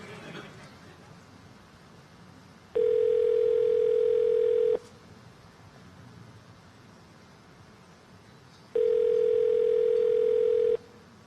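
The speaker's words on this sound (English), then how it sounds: "It's ringing." Two long, steady telephone ringback tones, each about two seconds, heard over a quiet line during a call, separated by a pause of roughly four seconds.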